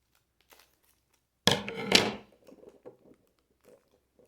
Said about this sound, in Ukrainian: Будемо тримати ножиці при собі. Відрізаємо обережно.